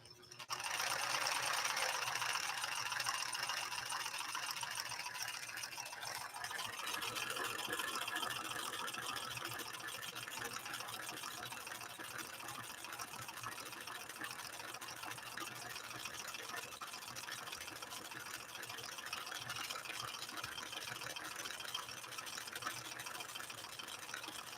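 A White Model 742 domestic sewing machine runs a straight stretch stitch with a fast, even mechanical whir and needle chatter, steady and close for the whole stretch with no talking.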